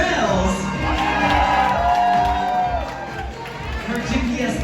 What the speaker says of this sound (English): Y'all make some noise for Kim Trails.